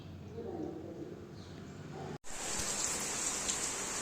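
Steady rain hissing down throughout, with a brief dropout partway, then the downpour continues, brighter and more even.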